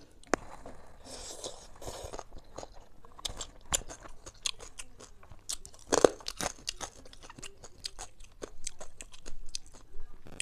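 Crispy fried pork ear is crunched close up, with repeated sharp bites and chewing crackles in an irregular rhythm, loudest near the middle; no talking.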